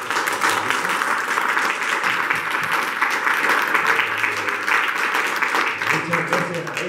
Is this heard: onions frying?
no